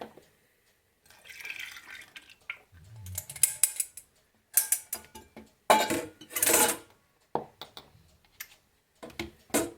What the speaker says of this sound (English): And I'm just going to pour this in there.